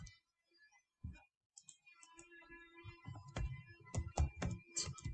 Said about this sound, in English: Let's type in assault